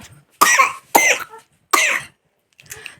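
A sick child coughs three times in sharp, close bursts, followed by a fainter fourth cough, with short silences in between.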